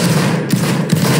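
Musket volley fired by a line of soldiers in a video game, heard as a dense, rolling rumble of overlapping shots with a couple of sharper cracks inside a short burst.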